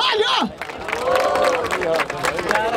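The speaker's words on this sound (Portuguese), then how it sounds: "Palmas pra essa batalha!" Crowd at a street rap battle in Barueri, São Paulo, applauding and cheering, with loud clapping mixed with shouts and crowd babble, a rising whistle-like cry at the start.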